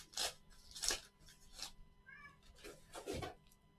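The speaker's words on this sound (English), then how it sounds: "Crazy cats out there wanting to fight." Cats fight outdoors, harsh yowls and hissing bursts coming in several separate flare-ups over a few seconds, fairly faint and distant.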